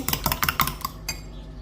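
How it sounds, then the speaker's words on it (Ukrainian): A fork beats egg yolks in a bowl for a coconut chocolate cake, a quick run of light tapping clicks that slows and fades out. "Жовтки розколочую вилку"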